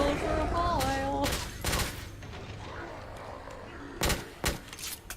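Pistol shots in The Order: 1886, a few sharp broadband cracks spaced apart amid game music and ambience, with a tonal melodic line early on.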